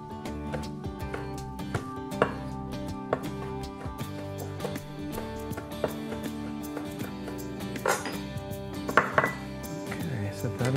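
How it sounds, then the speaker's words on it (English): Busy kitchen clatter with repeated chef's knife strikes on a cutting board, irregular chops mixed with clinks of dishes and utensils, close by, no talking. "And then you use your French knife for chopping."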